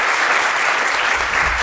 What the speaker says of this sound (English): let's please give a round of applause to all of our presenters.